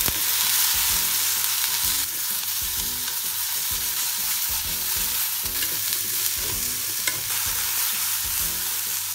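Meat and vegetables for omurice frying in a pan, a continuous close sizzle with the repeated scrape and clatter of stirring, no voices.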